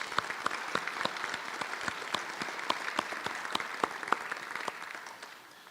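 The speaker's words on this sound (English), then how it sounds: "So I'm going to pause for a moment while you give those individuals a round of applause." An audience at a special town meeting in Milton applauds, steady scattered hand clapping from a mid-sized crowd that holds for several seconds before fading out at the end.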